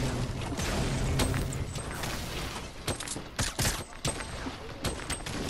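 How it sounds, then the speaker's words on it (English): Grenades being launched and exploding in Fortnite Battle Royale, heavy blasts and rattling gunfire packed into a loud, busy stretch with sharp bursts toward the end. "Shooting grenades."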